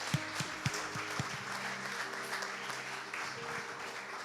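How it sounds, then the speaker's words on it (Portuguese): A church congregation applauding during a service, a broad wash of clapping with a few louder claps at the start under faint background tones. "vamos dar uma linda salva de palmas ao Senhor Jesus"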